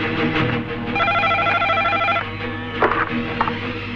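A telephone rings steadily and loudly in a Bangladeshi film scene as a call home is placed, its repeating bell tone sounding over a constant background bed with no talking.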